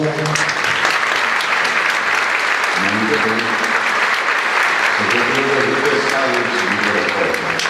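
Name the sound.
audience applause for speaker coming to the stage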